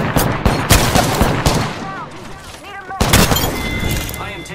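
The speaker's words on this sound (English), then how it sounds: "I am taking fire, friends" Rapid automatic gunfire in the Apex Legends battle royale shooter, loud bursts of shots with a pause midway before another burst, game voice chatter and sound effects over it.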